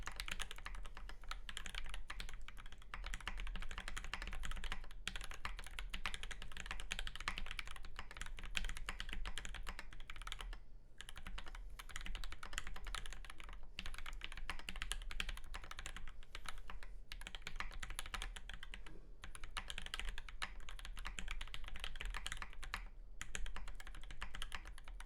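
Continuous typing on a Qlavier Quasi Alice mechanical keyboard fitted with EV-01 linear switches, with close, rapid keystrokes in steady bursts and a few brief pauses, and no talking.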